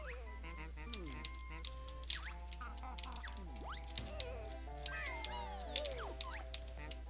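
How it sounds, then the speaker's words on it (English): Crying baby turtle in the video game Banjo-Tooie, rendered as cartoonish squeaky wailing chirps over steady game music and a constant low hum, repeating throughout. "Why does a turtle sound like a human baby?"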